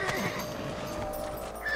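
A horse in the video game Red Dead Redemption lets out a loud, close whinny, with a shrill rising cry that rings out clearly and is mixed with a bit of hoof and gear noise.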